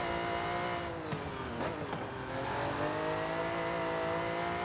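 A low-horsepower car drives in Forza Horizon 5, its engine droning steadily with a few shifting revs and a brief dip, close and continuous with no talk over it.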